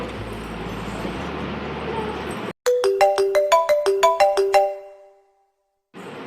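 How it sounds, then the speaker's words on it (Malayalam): A mobile phone rings with an incoming call: a bright, melodic ringtone of a dozen quick repeating notes, loud and close, cutting in after a stretch of noisy background and stopping abruptly. "എല്ലാം തകിടം മറിഞ്ഞിട്ടുള്ള ഫോൺ കോൾ വന്നത്"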